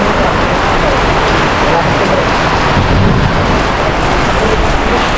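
A sudden, heavy downpour roars in a dense, steady wash of noise, with thunder rumbling low within it and no pause throughout.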